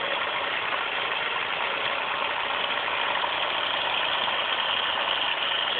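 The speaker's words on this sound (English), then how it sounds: "This is my Newman motor fan here." A homemade Newman motor fan with a commutator, skateboard wheels, magnets and a 6-inch blade runs steadily, giving a continuous close whirring hiss of motor and moving air at constant loudness, with no talk.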